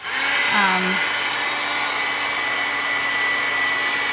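A heat tool blowing hot air to dry modeling paste, a loud steady whirring drone throughout, with a brief rising whine near the start.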